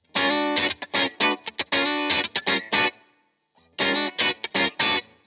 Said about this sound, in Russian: это скопировать так называемое фанковое положение на стратокастере